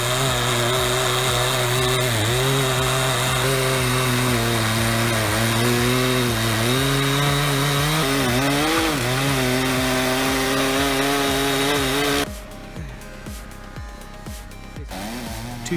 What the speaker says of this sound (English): Two chainsaws normally need two people, but here, one operator uses a remote throttle to control both.